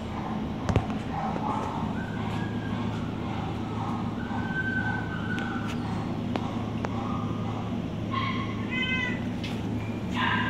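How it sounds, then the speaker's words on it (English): Cats at an animal shelter let out several short meows scattered over a constant low background hum, with brief clicks and clatter in the room. "Beautiful kitty cats."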